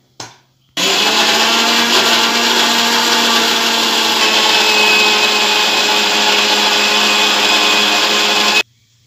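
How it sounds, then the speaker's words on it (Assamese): A kitchen mixer grinder whirs steadily at full speed, blending carrot malpua batter. The loud, even motor drone runs for about eight seconds before cutting off abruptly. "এতিয়া মই মিক্সিত মৰা হৈ গ'ল"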